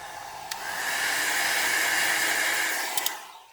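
A hair dryer blows steadily on an alcohol ink flower painting, a soft continuous hiss that swells in and fades out over a few seconds, with a couple of faint clicks near the start and end.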